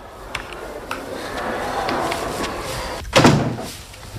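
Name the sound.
door closing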